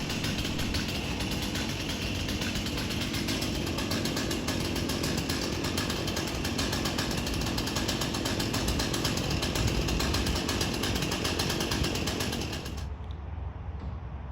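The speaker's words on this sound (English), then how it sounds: "that is the giant chainsaw that's going to do all the work for us here today" A large chainsaw runs steadily at a loud, continuous roar while cutting a Canary Island date palm during tree removal, then drops off near the end as the engine eases back.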